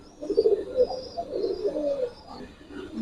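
Several giribaz bagha and jabra pigeons coo in low, overlapping murmurs at a pigeon fair, a steady close chorus that rises and falls without talk.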